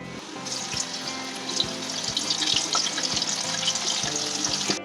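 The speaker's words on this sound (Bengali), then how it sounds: "ধুয়ে কর্নফ্লাওয়ার, লবণ, হলুদ দিয়ে মেখে তেলে ভাজতে হবে।" Cauliflower pieces coated in cornflour, salt and turmeric fry in hot oil with a steady, bright sizzle and crackle, punctuated by a few soft clinks of stirring, with no talking.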